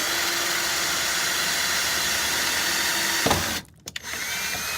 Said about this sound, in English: take your 3/8 bit, drill another hole just like that